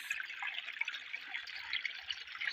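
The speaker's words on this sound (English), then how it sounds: "So guys, this is the river." Clean village river water flowing and trickling steadily, a close, continuous bright wash with small splashy fluctuations and no voices.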